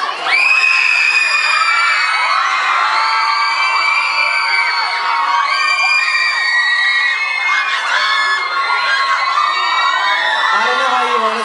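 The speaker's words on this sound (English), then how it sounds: "I don't know how you want us to respond to the scream." A young crowd at a holiday party concert in San Jose screams continuously and loudly for about eleven seconds, with high shrill shrieks layered into a dense roar.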